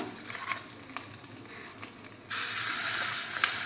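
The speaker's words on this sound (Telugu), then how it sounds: "చట్నీలో తిరువాత వేసుకొని కలుపుకుందాము" Sizzling tempering goes into ivy gourd chutney, with quiet scrapes and taps at first, then a sudden loud, steady frying hiss that fills the rest of the moment.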